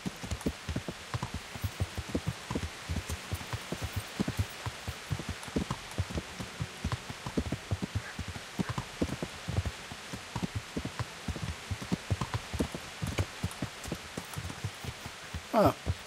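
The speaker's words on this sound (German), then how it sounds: "ach nee, wird Regen, kann man mit Theresa nicht spazieren gehen" Rain falling in the medieval video game Kingdom Come: Deliverance, a steady faint patter of drops with soft irregular taps throughout, quiet and continuous with no speech over it.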